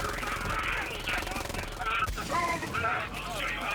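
Dense, rapid gunfire from a weapon out of the Guns of the Tentacle DLC in Borderlands 3, sustained bursts that run nearly unbroken and loud throughout.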